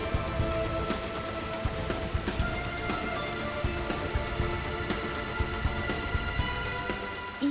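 Steady rain pours down with dense, continuous patter on surfaces, close and constant with faint dripping detail and no pauses.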